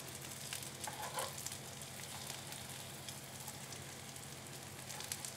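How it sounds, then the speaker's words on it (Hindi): An egg breakfast snack frying in a pan over a low gas flame, giving a soft, steady sizzle with faint crackles, quiet and even with no talk. "सभी को हम पलट देंगे और दूसरी तरफ भी हम 1 मिनट फ्राई हो जाने देंगे।"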